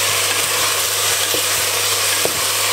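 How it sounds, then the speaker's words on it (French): Meat cooks down in a pan until its released water evaporates and it starts to brown, giving a steady, close frying sizzle with a few faint stirring clicks throughout. "quand votre viande dégorge comme ça de l'eau, faites cuire jusqu'à ce que l'eau soit absorbée et ensuite ça va dorer"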